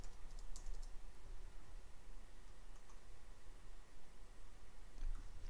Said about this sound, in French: Je tape le mot de passe.